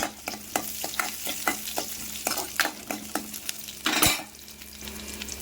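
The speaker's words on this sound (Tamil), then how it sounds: "இப்போ நல்லெண்ணெய் ஊற்றிருக்கிறேன் தாளிப்புக்கு கடுகு வெங்காயம்" Mustard seeds and onion tempering in hot sesame oil, a steady sizzle broken by sharp, evenly spaced stirring scrapes and seed pops, with one louder burst near the end.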